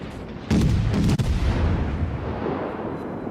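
A warship in World of Warships fires high explosive shells: one loud, close salvo bursts out and rolls off into a long fading boom.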